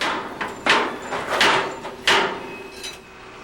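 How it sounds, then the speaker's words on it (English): Bolting new steel deck sections together during a night bridge deck replacement, a few sharp metallic clanks and knocks spaced irregularly over a low background hum. "Once it's lined up, they can start bolting the two new sections together."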